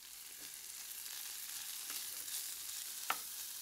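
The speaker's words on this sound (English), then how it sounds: "And then just saute everything for about 3 minutes or until the peppers are tender." Bell peppers, shallots and fresh rosemary sauté in a pan with a steady soft sizzle, a few faint stirring scrapes and one sharp utensil tap near the end.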